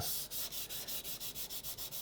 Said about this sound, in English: So you're sanding the finish a little bit